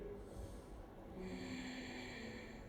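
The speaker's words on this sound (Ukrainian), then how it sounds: "Вдих. Вдих. Ще вдих." A steady, close breath drawn in during a yoga pelvic-floor exercise, a long even inhale with a faint nasal edge and no talking over it.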